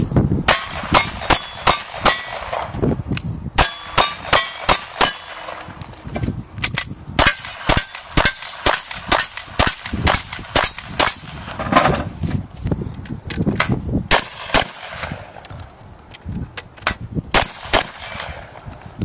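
Cowboy action style shooting produces rapid strings of loud gunshots mixed with ringing metallic clangs from steel targets, the pace brisk and uneven across a busy outdoor range.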